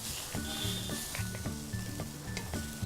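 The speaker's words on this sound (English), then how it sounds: "And just roast this off, continuously stirring so it doesn't stick to the bottom of the pan" A spatula stirs a dry roast continuously in a pan for barada palya, giving soft sizzling and a steady scrape along the pan bottom at a quiet, even level, with faint background tones.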